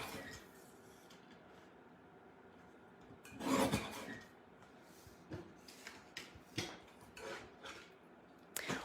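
A paper trimmer slices cardstock into a square for a handmade snowman card, a close, quiet rasping cut with one louder sweep in the middle followed by smaller scraping and tapping sounds.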